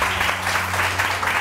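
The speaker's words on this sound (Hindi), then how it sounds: "मिसेस शाहिद के लिए बहुत सही तालियां" A brief, full wash of studio audience applause on a Samaa TV morning show, dense and fairly loud, with a low electrical hum underneath.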